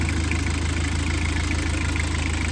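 Boat engine idling steadily just after an oil and filter change, a continuous low mechanical rumble with a fine rhythmic knock, close and constant with no talking.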